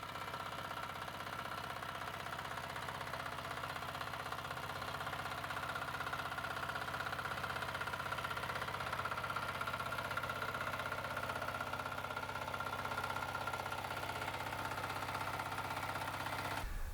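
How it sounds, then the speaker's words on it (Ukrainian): Walk-behind tractor (motoblock) engine running steadily with a Kamyanska potato digger attached, a continuous mid-pitched drone with a slight knocking beat, fairly close and unbroken throughout. "мотоблок тепер вже йде рівно, не клює носом, як раніше було"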